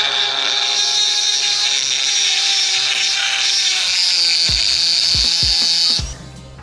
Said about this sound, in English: I'm going to take this top hat and mill out that hole so it can fit on top of this sheer strut body